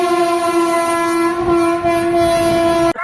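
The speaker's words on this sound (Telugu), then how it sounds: "ట్రైన్ వస్తుంది." A train sounds a long, steady horn up close, loud and unbroken for about three seconds before cutting off abruptly.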